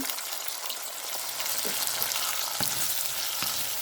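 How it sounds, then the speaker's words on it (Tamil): Tomatoes sautéing in a pan of oil for a fish curry kulambu, a steady broadband sizzle with a few soft stirring scrapes and taps, close and continuous with no talk. "நல்லா வதக்கி விடுவோம் நாங்கள் போட்ட தக்காளி பழம் எல்லாம் கரைஞ்சி ஒன்று வந்துட்டுது"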